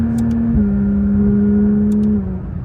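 Inside a sports car with paddle shifters, the engine and intake hold a steady droning hum while driving, the pitch stepping down slightly twice as it cruises on.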